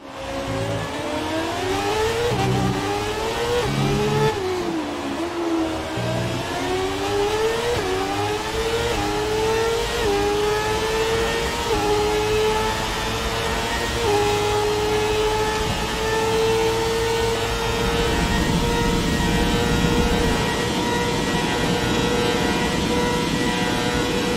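Formula 1 car with a V6 hybrid turbo engine in the F1 2017 racing game, loud and steady throughout, rising and falling in pitch through gear changes and braking before holding a high whine on acceleration; no talk.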